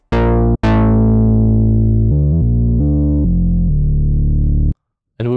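Bright synthesizer notes with sharp plucked attacks, then sustained chords shifting in pitch, loud and close, ending briefly in silence before a new burst.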